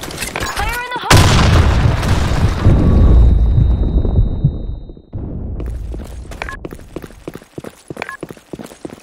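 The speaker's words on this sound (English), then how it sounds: "Grenade. Fire in the hole." A grenade blast in the first-person shooter Blackshot booms loudly after a brief voiced radio call, its heavy low rumble decaying over several seconds before scattered gunfire and game effects take over.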